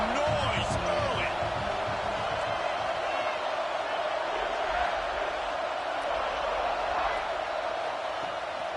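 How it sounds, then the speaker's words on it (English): Stadium crowd roar in the College Football 26 video game, a steady broadband din of cheering fans that stays loud and continuous throughout, with brief bouncing thuds early on. "This crowd bringing the energy and noise early."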